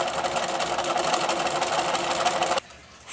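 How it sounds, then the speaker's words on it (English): A sewing machine stitches a side seam of a fabric Halloween trick-or-treat bag, running in a steady, close whir that stops abruptly near the end. "use 1/2 inch seam allowance to sew the side seam"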